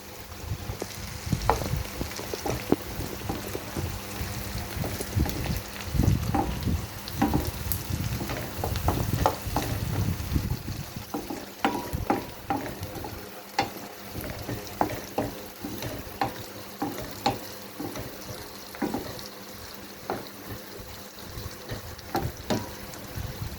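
Green peppers fry and get stirred in a pan for menemen, a steady close sizzle with frequent sharp scrapes and clicks of the utensil against the pan throughout.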